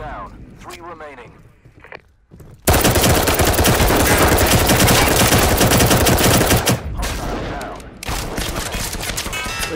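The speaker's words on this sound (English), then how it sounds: "Where are you getting shot from?" Sustained automatic gunfire in the VR shooter Firewall rattles loud and close for about four seconds, framed by voices talking before and after with scattered shots.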